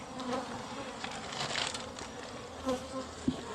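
European honey bees inside a wall produce a faint, steady buzzing hum, with a few soft knocks and shuffles.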